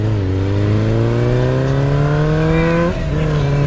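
A motorbike rides along a road, its engine droning loudly and close as the pitch climbs steadily through acceleration, then drops briefly before carrying on, with no talk.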